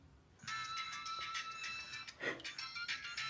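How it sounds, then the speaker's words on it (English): A Caribbean-style melodic ringtone plays from an old Nokia flip phone, bright chiming tones in a steady tune, fairly quiet and close, with brief handling noise partway through. "Can I get like a ringtone to play? I like this Caribbean one."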